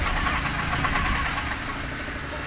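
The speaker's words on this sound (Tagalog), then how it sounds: "nakikita naman natin na makina ngayon ay sobrang palyado. Parang halos mamatay na." A misfiring two-cylinder Suzuki Carry E08 turbo diesel engine idles roughly and unevenly, knocking and sputtering close by as if about to stall, loud and continuous with no talking.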